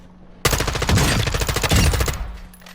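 Rapid automatic gunfire from the AMOP V4 on the firing range in Call of Duty DMZ, a sustained loud burst of closely spaced shots lasting about two seconds, heard alone.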